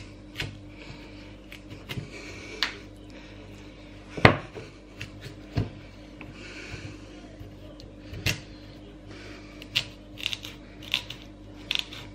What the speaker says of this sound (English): Fascinating thing about sweet potato, it's not easy to cut into.